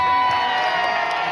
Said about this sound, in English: big applause for them.